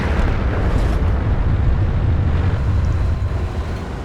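A loud, booming tank cannon shot from the T110E5 in a video game, a heavy roar that fills the whole stretch and slowly tails off without any break.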